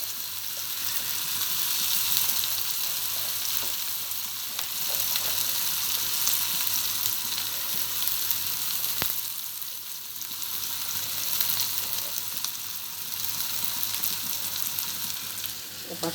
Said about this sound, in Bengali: এখন সেই মেখে নেওয়া পেঁয়াজ, মরিচ গুলা দিয়ে দেবো ইলিশ মাছের ভাজা তেলের ভিতরেই দিয়ে দেবো।